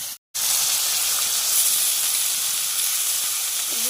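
Squeezed banana stem dropped onto spices in a hot pan, an abrupt sizzle that settles into a steady loud hiss after a brief silence at the start.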